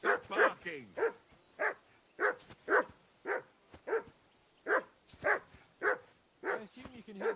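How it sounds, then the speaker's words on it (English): A dog barks repeatedly in the video game Kingdom Come: Deliverance 2, with about a dozen evenly spaced, fairly close barks in a steady rhythm and no talk over them. "I assume you can hear that damn dog of yours barking."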